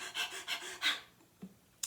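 A person imitates a dog panting during a children's ukulele song, giving several quick, breathy huffs in an even rhythm, close and fairly quiet, then trailing off into near silence.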